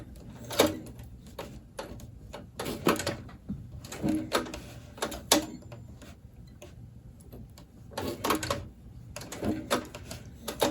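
Leather elephant-skin gun holster being hand-stitched, with repeated sharp ticking and pulling sounds as needle and thread pass through tough leather, arriving in close bursts separated by short pauses.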